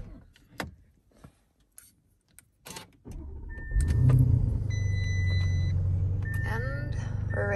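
A Lamborghini Urus: several door clunks and clicks, then the engine starts and settles into a steady, loud, close idle rumble, with chimes and short electronic tones over it.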